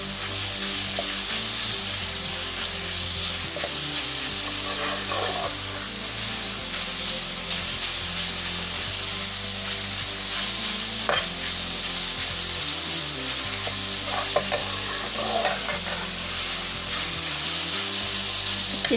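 Turnip curry with salan masala sizzles steadily in a pan while a spoon stirs it, giving occasional soft scrapes over a constant frying hiss, with no voices.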